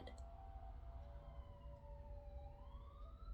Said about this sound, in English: And there's sirens.